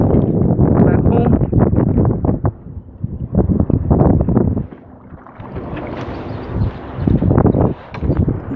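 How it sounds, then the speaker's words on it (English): Strong wind of about 24 km/h blowing across a lake at Ken Whillans conservation area while bass fishing from a small boat, a loud, gusting roar buffeting the microphone that rises and falls in waves, with a voice at times. "This wind is pretty bad."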